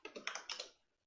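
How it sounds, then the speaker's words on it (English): A short burst of about six quick keystrokes on a computer keyboard, close and quiet, tapping out code before stopping. "You could start typing JavaScript right here, right now."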